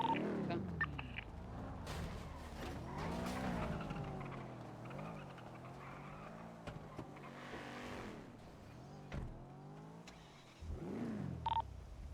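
A car drives in the game GTA V on the NoPixel roleplay server, with a steady engine drone whose pitch rises and falls through repeated revving and gear changes, interrupted by a few brief clicks and beeps.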